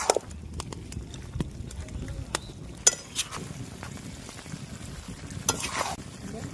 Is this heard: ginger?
yes